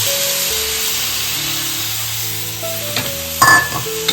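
Dried fish (sukat) lands on an onion, red chili and turmeric tempering in hot oil, giving a continuous dense sizzle with a brief louder spattering burst near the end.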